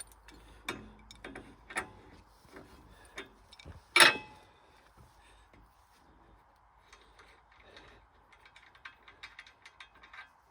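Ratcheting clicks and metallic taps while a nut is tightened on a reassembled part of a Wood-Mizer LX50 Super sawmill, a sharp clank near the middle, then faster light clicks; close and moderately quiet, with no talk.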